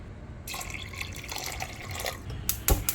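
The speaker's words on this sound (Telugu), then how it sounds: "ఇప్పుడు ఈ బియ్యంలో సరిపడా నీళ్ళు పోసుకుందాం" Water pours into basmati rice in a vessel, a close, continuous splashing flow that starts after a short pause, with a brief louder splash near the end.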